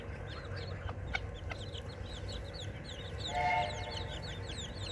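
Chicks peep and cluck continuously while pecking at slugs, close by, with a brief louder chirping burst toward the end and no talk.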